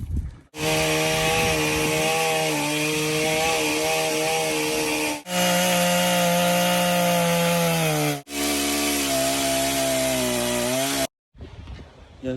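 A loud chainsaw runs close up in long sustained bursts, its engine pitch wavering as it cuts, with two brief drops between stretches and a short quieter tail.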